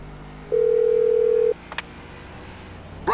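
A steady phone ring tone from a call on speakerphone in the GTA 5 video game holds for about a second, followed by a couple of faint clicks and a brief tone at the end, with no talking.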